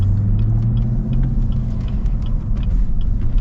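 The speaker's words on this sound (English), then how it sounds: "just the burbles you get out of the exhaust, such a cool sound" Deep, rumbling exhaust burble from a 2024 Chevy Camaro ZL1 driving in traffic, steady and close, with a low throbbing tone and faint crackles above it.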